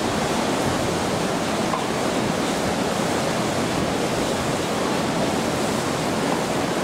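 Steady, full roar of Atlantic Ocean surf, a dense continuous wash of breaking waves heard up close with no distinct individual breakers and no talking.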